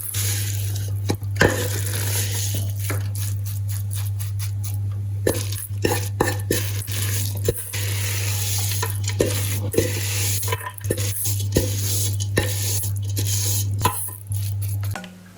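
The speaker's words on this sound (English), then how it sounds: "I'm using my wooden spoon. I've tipped the mixture out into my baking tray and now I just need to pat it down." A wooden spoon pats and scrapes flapjack mixture into a baking tray, sounding as irregular soft knocks and taps over a steady low electrical hum.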